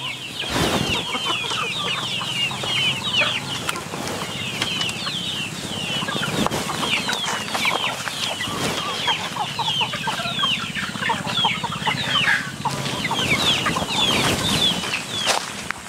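Free-range native chickens cluck and chatter continuously at close range, with overlapping clucks, occasional sharper calls and brief bursts of wing flapping and scratching among the flock.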